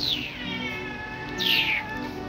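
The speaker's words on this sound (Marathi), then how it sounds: "अशा प्रकारे इथं मांजर आहे." A cat meows twice at close range, a brief call followed by a longer, louder one, over a steady background hiss.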